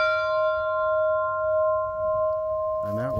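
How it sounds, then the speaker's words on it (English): An old outdoor bell rings once near the start and its steady metallic tone hangs and slowly decays over about three seconds, with faint background noise and a brief rustle at the end. "This bell's been here since I got here as a kid."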